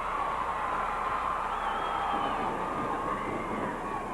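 A large wrestling-event crowd in Tulsa roars in a continuous, dense wash of cheering and shouting, loud and sustained throughout with no pauses.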